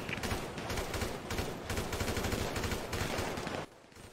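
Gunfire in a GTA V shootout on Mount Chiliad after a jewelry store robbery: a dense, continuous fusillade of overlapping shots, loud and sustained for a few seconds, then cutting off abruptly.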